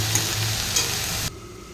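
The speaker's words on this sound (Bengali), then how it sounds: "এদিকে দেখো, মাংসের মশলা আমার প্রায় কষা হয়ে গেছে।" Spice masala for a meat curry sizzles and is stirred in hot oil in a pan, a steady close frying hiss with spoon scrapes that drops off sharply near the end.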